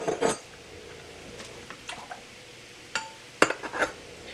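Apple pie filling ladled into canning jars in a home kitchen, with a few clinks and scrapes of the ladle against jars and pot, quiet between scattered knocks and a louder clatter near the end.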